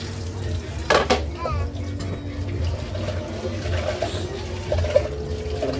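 Dishes being washed by hand, with clinking plates and utensils and running water over a low background hum, plus a few louder knocks and a voice speaking briefly.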